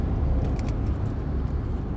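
Steady low road rumble heard from inside a car stuck in traffic, a continuous engine and tyre drone with no distinct passing vehicles.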